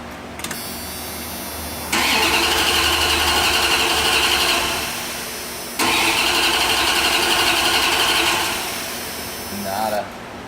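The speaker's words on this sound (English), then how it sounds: "I'll put the key in it, crank it over and see now the battery's up" Car engine cranking over without catching, two long bursts of steady starter whirring separated by a pause, loud and close, ending without the engine firing.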